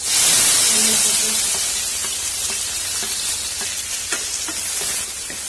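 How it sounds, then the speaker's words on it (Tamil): Onions sizzle steadily in hot oil with curry leaves, a loud continuous hiss with occasional crackles and faint stirring. "வெங்காயம் நல்லா வதங்கட்டும்."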